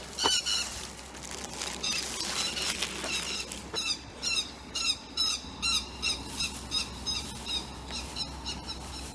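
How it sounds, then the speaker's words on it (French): A crow and a black-and-white bird squawk and scuffle outdoors, harsh raspy calls at first giving way to a rhythmic series of repeated squawks at moderate distance over a steady background hum. "Il y a un oiseau noir et blanc qui essaye de se friter avec un corbeau."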